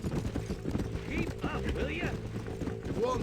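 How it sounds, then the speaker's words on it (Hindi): A horse approaches in the Red Dead Redemption video game, its hooves clip-clopping in a rapid rhythm over a busy background of game sound, while someone talks over it. "ये रहा मार्शल का घोड़ा और ये रहा हमारा घोड़ा आता हुआ"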